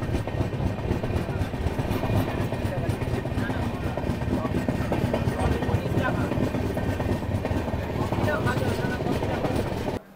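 The 12331 Himgiri Express, running from Howrah to Jammu Tawi, gives off a steady, loud rumble with rail clatter that continues unbroken for about ten seconds, then cuts off abruptly.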